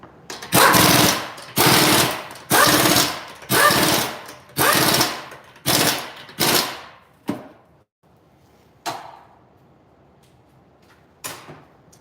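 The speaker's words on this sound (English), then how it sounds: "And what it does is limits the amount of torque that your impact gun is going to put on the lug nuts." Impact gun fitted with a torque stick driving lug nuts during a brake pad and rotor job: seven loud, close rattling bursts about a second each, then a few short clicks and quieter taps.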